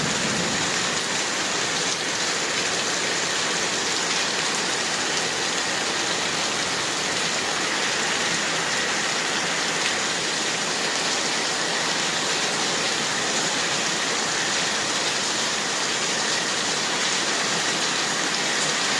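Heavy rain pours steadily onto a rural house with earthen walls and a roof, a dense, loud, unbroken hiss with no let-up and no talk throughout.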